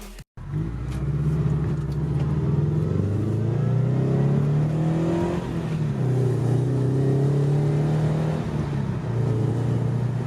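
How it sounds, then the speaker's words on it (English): A Subaru BRZ with a Perrin 2.5-inch resonated exhaust drones and rises in pitch as it accelerates, a deep resonant exhaust rumble heard from inside, steady and fairly close, without talking. "we're gonna take it for a test drive, and I'll show you guys what it sounds like"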